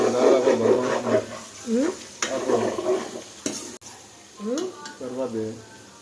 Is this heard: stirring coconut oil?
yes